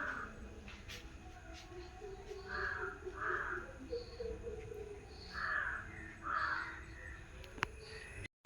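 A crow caws several times at irregular intervals. The harsh calls are fairly close and clear over a quiet outdoor background.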